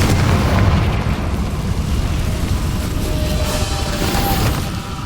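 A Confringo spell explosion in Hogwarts Legacy, a loud, sustained rumbling blast that roars steadily for several seconds and stays close and dense throughout.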